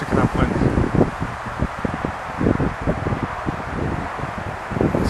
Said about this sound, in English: Yeah, it's picking up wind.